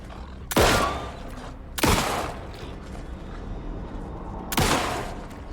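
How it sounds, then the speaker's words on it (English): Three sharp, loud gunshots from an automatic pistol in the survival horror game Alan Wake 2, spaced unevenly over a few seconds, each with a short echoing decay over a low ambient rumble. "one of the upgrades for the pistol just turns it into an automatic pistol"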